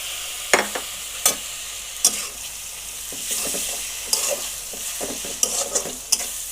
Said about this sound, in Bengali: নাড়িয়ে চাড়িয়ে নিব